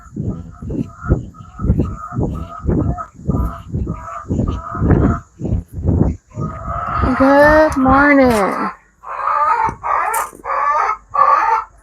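Chickens let out of their coop in the morning give loud, rhythmic squawking calls in a steady series, followed by a person speaking a greeting over louder bird calls, then more scattered clucking.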